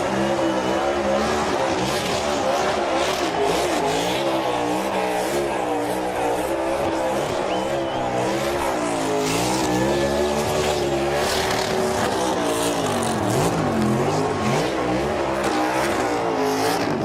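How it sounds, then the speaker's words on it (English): NASCAR Cup Series race car doing a burnout in 2022, engine roaring with a constant, loud, wavering tire squeal and revving throughout. "he's getting pretty darn good at those burnouts"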